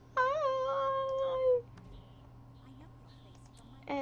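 A cat meows in the Guild Wars 2 video game, one clear drawn-out meow near the start, followed by quiet game ambience and a faint second cry at the end.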